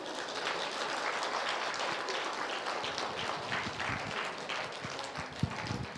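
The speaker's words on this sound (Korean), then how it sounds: "자, 우리 오늘 여기 오셔서 드디어 억대부자 된 거 앞뒤 분들하고 축하 박수 쳐라" Church seminar crowd applauding in a hall, a dense, steady wash of clapping from many people at a moderate distance, without a break for six seconds.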